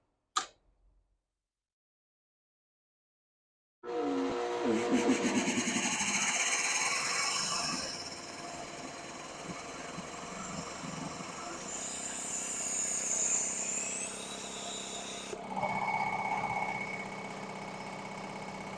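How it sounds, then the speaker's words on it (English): A single-phase motor compressor ramped up by an inline soft starter comes in after a short click and silence, then runs as a steady loud mechanical hum with a ticking rhythm that shifts a little in pitch and level. "And that is the compressor running."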